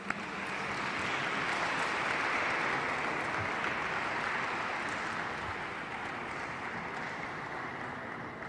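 Applause from an audience at a celebration for a championship-winning team, a dense, steady wash of clapping that stays loud and even throughout with no voices over it.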